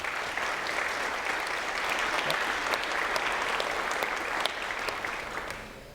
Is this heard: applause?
yes